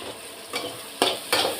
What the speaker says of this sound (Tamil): நல்ல எண்ணெயிலே பொரியட்டும்